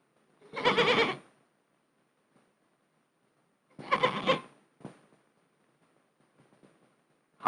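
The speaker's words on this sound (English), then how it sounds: "The goats see Patty coming." Goats bleat on a farm around 1950: two loud, drawn-out calls about three seconds apart, followed by a shorter, fainter bleat and a few scattered small sounds.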